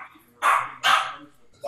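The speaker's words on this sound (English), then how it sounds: "Dog." A dog barks twice in close succession, loud and near, with a third bark beginning at the end, interrupting a Zoom interview recorded indoors at home.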